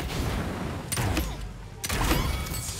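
Poison pistol gunfire in the battle royale game Realm Royale, heard as a steady stream of rapid shots with two sharper bursts, sitting close and loud under a noisy game mix.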